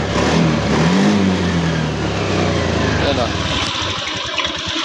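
A Honda Beat scooter with an error code 52 fault, likely due for a fuel change, runs steadily with a buzzing small-engine drone, loud and close, while people talk over it.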